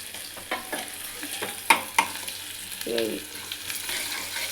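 Dried red chillies fry in oil for a tempering, with sharp spatula scrapes and clinks over a soft, steady sizzle, close and irregular, with no talking.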